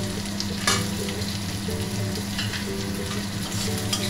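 Chopped onions fry in a pan with a steady, close sizzle and crackle that runs unbroken, with faint stirring scrapes and no talking.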